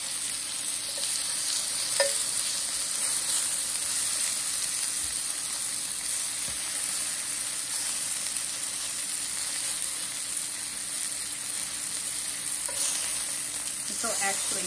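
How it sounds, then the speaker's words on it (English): Lemons char and sauté in a hot pan with a loud, steady sizzle that holds unbroken throughout, close up and with no talk. "char my lemons first. Just gonna give them a quick saute."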